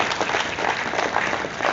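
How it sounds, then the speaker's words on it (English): Conference audience at a real estate investment masterclass in Abuja claps steadily, a dense, close burst of many hands applauding throughout without a break. "You can clap better."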